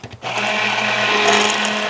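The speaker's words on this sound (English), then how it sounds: "And now with the immersion blender spinning, we're gonna go in with some avocado oil until a nice mayonnaise is formed." An immersion blender whirs steadily and loudly, blending egg, lemon juice, salt, garlic and avocado oil into a homemade mayonnaise-style dressing; a brief knock precedes the continuous motor drone.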